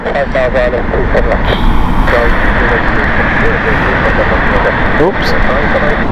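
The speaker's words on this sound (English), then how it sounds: "This is the Calgary flight of WestJet 787-9." A one-year-old WestJet Boeing 787-9 airliner on the Calgary flight arriving at Heathrow, its loud, steady jet roar filling the whole stretch while a voice talks over it.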